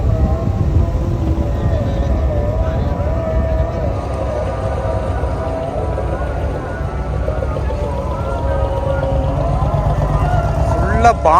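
A Dubai water taxi boat engine drones steadily over water, with people talking nearby and a brief rising whine near the end.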